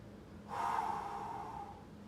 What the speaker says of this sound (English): Let's just take 3 breaths slowly